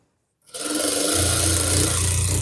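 A sewing machine runs steadily while stitching a Nihang Singh chola, starting after a brief silence and continuing as a loud, close, continuous mechanical whir with a low motor hum.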